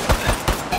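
Rapid bursts of automatic gunfire in the video game Ghost Recon Wildlands, a few loud close shots in quick succession.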